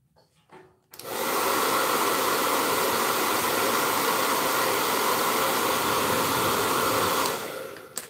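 A hair dryer switches on and blows steadily for about six seconds, drying paint on a rustic Easter plaque, a close, loud, even whoosh that cuts off near the end, with no talk.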